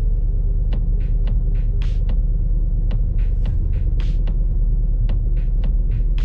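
A car engine idles with its ignition timing advanced and is beginning to miss, giving a steady low rumble and throb with sharp, irregularly spaced ticks and pops breaking through, loud and close throughout.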